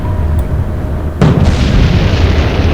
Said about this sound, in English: Obdurate is sinking from a secondary explosion.